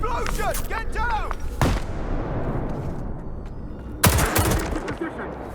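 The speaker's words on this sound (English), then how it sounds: "Explosion! Get down!" Gunfire and explosions in the STALKER 2 video game: loud sharp blasts and bursts of shots, with clipped radio-like voice fragments between them and a rumbling tail.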